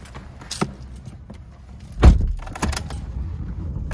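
Someone climbs into a 2016 Holden Colorado, with light rustling and jingling keys, a solid thud as the door shuts about halfway through, then muffled interior shuffling close by.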